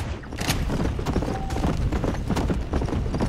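A horse approaching in the game Red Dead Redemption: Undead Nightmare, with loud close hoof clip-clops in a quick steady rhythm over a dense rumble.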